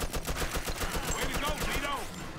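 Gunfire in the Mafia 2 video game, a dense run of rapid, evenly spaced shots that rings out loud and close without a break through the whole stretch.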